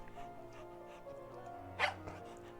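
A small stray dog whimpers once in the Tiny Bunny video game, a short, fairly close whine rising over a steady game background hum, with faint dog sounds around it.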